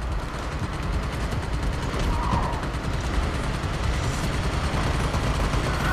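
Continuous dense gunfire in the shooter game Army of Two, loud and unbroken throughout with a busy mechanical clatter and no clear pauses.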